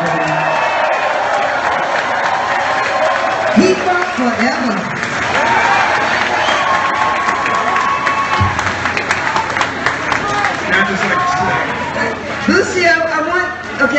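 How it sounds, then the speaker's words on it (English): A crowd at a New York benefit concert applauds and cheers under loud talk, with chatter and some laughter mixed into the dense noise. "Let's give her a nice round of applause"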